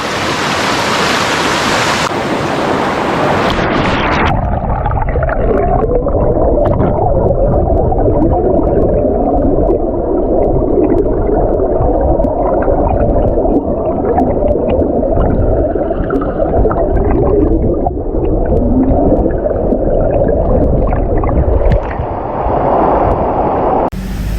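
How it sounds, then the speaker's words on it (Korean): A natural waterfall at a mountain spring roars as a dense, continuous rush of falling water, loud and close, steady for the whole stretch with no voices. "웅교산 약수터에서 자연산 폭포와 약수터를 영상에 한번 담아봤는데요"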